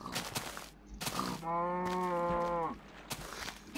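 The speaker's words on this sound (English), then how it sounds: "Don't explode, don't blow up the cow!" A Minecraft cow lets out one long, steady moo lasting about a second, loud and close, with game noise before and after it.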